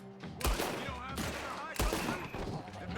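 Gunfire in the video game Red Dead Redemption 2: two loud, close shots or bursts about a second apart over a continuous rattle of firing, with faint voices mixed in.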